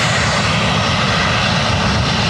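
Ryanair jet engines run steadily while the airliner waits at the runway threshold at Lanzarote Airport, a loud, constant broadband roar with a low rumble and no break.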